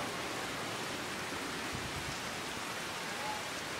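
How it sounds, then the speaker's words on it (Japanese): Steady rain falls in the video game Final Fantasy XV, playing as a constant even hiss with no breaks or separate drops standing out. "今雨降ってますよ"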